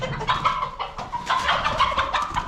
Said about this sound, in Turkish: Sakin tavuk sakin.